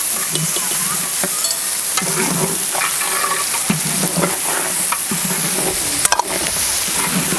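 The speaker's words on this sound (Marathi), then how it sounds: "सगळं खोबरं आणि कोथिंबीर बारीक करून घेतात ना ते घातलेले आहे ते सुद्धा आपल्याला चांगलं असं तेलामध्येच परतून घ्यायचं" Grated coconut and chopped coriander are fried and stirred in oil for a large batch of dry mutton cooked over a wood-fired stove, producing a loud, continuous close-up sizzle with occasional spatula scrapes.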